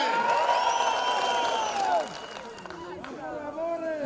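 A crowd at a political rally in Kenya cheers and claps for guests, with whistle-like tones and shouts rising over a steady roar while a voice talks over the noise.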